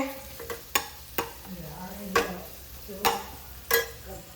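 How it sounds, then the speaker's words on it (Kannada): Mustard seeds and cumin frying for mango chitranna, stirred in a pan with a steady sizzle and sharp clacks of the spoon against the pan at irregular intervals, close by, no voices. "ಈಗ ಚೆನ್ನಾಗಿ ಮಿಕ್ಸ್ ಮಾಡೋಣ. ಸಾಸಿವೆ ಹಾಕಿದ, ಜೀರಿಗೆ ಎಲ್ಲ ಹಾಕಿದ್ದೀನಿ"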